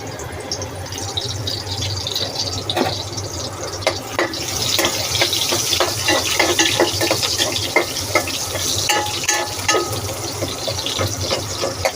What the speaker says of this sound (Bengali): পেঁয়াজ দিয়ে দিচ্ছি পরিমাণ মতো।